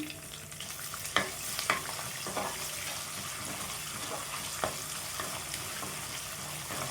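Chopped green chillies, four or five of them, fry in hot oil over a tempering for an egg omelette curry, giving a steady soft sizzle with a few brief clinks of stirring and no talking.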